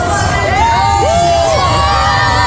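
A crowd of fans at VidCon cheers and shouts continuously, loud and close, with high children's whoops and yells rising above the din.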